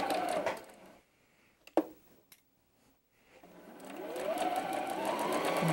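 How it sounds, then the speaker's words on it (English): A sewing machine stitches fabric along a quarter-inch seam with a backstitch: a short burst of whirring, a pause with a few faint clicks, then a steady, longer run. "starting at the beginning of my fabric, and I'm going to begin sewing my quarter inch"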